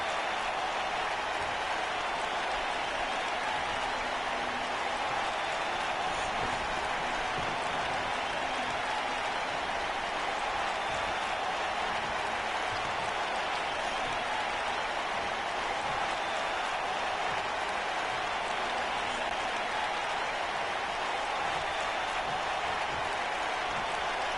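A virtual arena crowd in WWE 2K19 roars and applauds continuously for the whole stretch, a dense, even wall of noise with no pauses, loud and sustained without speech standing out.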